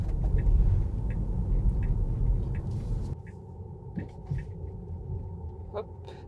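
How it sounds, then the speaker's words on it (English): Inside a moving electric car, a steady low road rumble and tyre noise fill the cabin with no engine sound, easing slightly midway, with faint ticks over the hum. "since it's an electric car, you do hear a lot more of the roads than on other cars"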